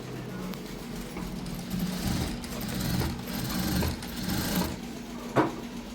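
A sewing machine stitching a dress with lining and piping cloth, its motor running in a steady whirring buzz at moderate volume, with a few soft clicks and a brief sharp tap near the end.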